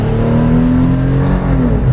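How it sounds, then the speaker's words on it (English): Engine of a 2015 Toyota 4Runner TRD Pro pulling from a standstill toward 60 mph, a loud, steady drone with rising low tones held close and unbroken for the whole two seconds, no talking. "All right, here we go, 0 to 60 in the 2015 TRD Pro 4Runner."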